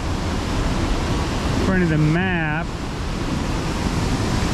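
The Cascade River on the North Shore rushes beneath a footbridge in a constant loud roar, and someone speaks briefly over the water.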